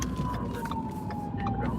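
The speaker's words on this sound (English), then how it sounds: "there's an ambulance behind us" An ambulance siren wails steadily on a city street at night, a thin sustained tone heard from a moderate distance over low traffic rumble.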